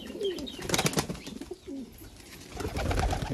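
High flyer pigeons cooing softly close by, mixed with a flutter of wings and light rustling, in a short busy burst.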